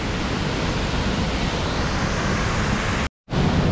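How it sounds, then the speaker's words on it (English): Continuous rushing roar of a waterfall, broad and steady, cut by a brief silent gap before resuming. "I can hear the waterfall"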